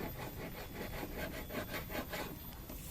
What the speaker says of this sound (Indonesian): saya biasanya menggunakan edging PVC lunak, jadi kita bisa menggosoknya atau mengamplasnya dengan kayu